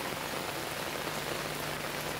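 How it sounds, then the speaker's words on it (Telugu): Steady afternoon rain pours onto an open first-floor terrace, a dense, even hiss of drops hitting the hard surface that holds constant throughout, with no voices. "ఉన్నట్టుండి మధ్యాహ్నం వర్షం స్టార్ట్ అయిందండి"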